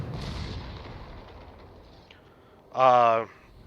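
A World of Warships battle, where a heavy ship's guns fire once in a short, loud broadside burst over faint background game noise.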